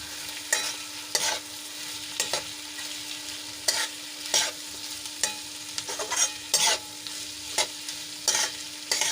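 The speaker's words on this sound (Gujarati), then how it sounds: "હવે એમાં આપણે મગ એડ કરી લઈશું અને સરસ રીતે મિક્સ કરી લઈશું" A spoon stirs mung beans into sautéed onion, potato and tomato in a pan for mung bean pulao, giving repeated scraping strokes at an irregular pace over a soft, continuous sizzle, close up with no voices.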